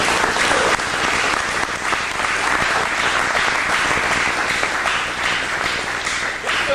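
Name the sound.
audience applause for black women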